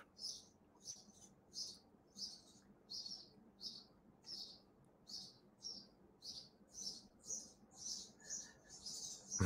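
A bird chirps quietly and repeatedly in a steady rhythm, each short call evenly spaced, with a faint background hum, near a litter of Great Pyrenees puppies.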